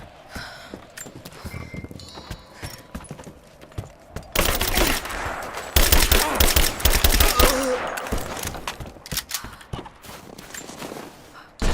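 Covering gunfire in Rise of the Tomb Raider: sustained, loud bursts of automatic and scattered shots rattling for several seconds, set against low ambient game noise with a brief voice in the quieter opening.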